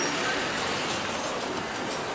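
A large vehicle rolls along a city street in Samara on a Victory Day evening, a steady broadband rumble and hiss of engine and tyres, close and fairly loud, with no pauses.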